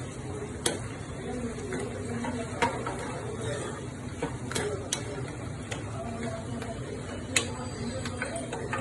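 Tempering spices for mango rice fry in a pan with a soft continuous sizzle, broken by a few sharp clicks of a spoon against the pan.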